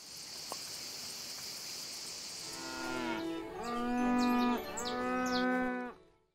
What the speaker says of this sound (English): you'll have just one sheep around you or one cow, but it kind of sounds like 200 are there at the same time.